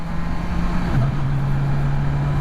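A Kawasaki Versys 1000SE motorcycle engine hums steadily, then its pitch drops once as the quick shifter snaps up a gear, followed by a steady drone again.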